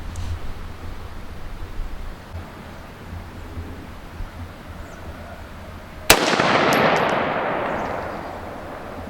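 A scoped rifle is fired while zeroing at 100 yards, with one sharp, loud report near the end after quiet outdoor background, then a long fading echo.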